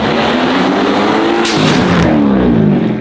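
The 1,000 hp twin-turbo AMG known as the Red Pig roars loudly up close, engine pitch rising and falling with hard acceleration and a sharp burst of turbo whoosh partway through.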